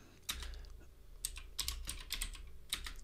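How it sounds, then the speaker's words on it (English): Rapid bursts of keystrokes on a computer keyboard as a terminal command is entered, close and clear, in several uneven clusters with short pauses between them, no voices. "So I'm going to type rm space, then the name of the file name."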